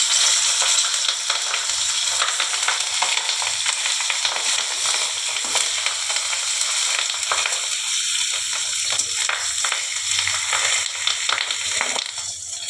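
Banana blossom patties fry in hot oil in a pan, a loud continuous crackling sizzle with sputtering pops that stays even throughout, without any speech.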